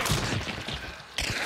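Gunfire in the video game Hunt: Showdown, a dense, loud volley of overlapping shots followed after a brief dip by another sharp burst.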